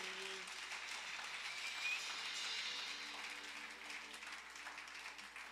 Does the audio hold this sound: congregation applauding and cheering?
yes